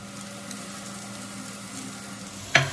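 Soft continuous sizzle of masala bitter gourd frying in a pan as chopped coriander goes in, quiet and steady, ending with a sharp clatter near the end.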